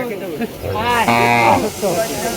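A cow gives a long, loud moo close by, rising and falling, with background murmur and voices around it at a cattle market in Barura, Cumilla.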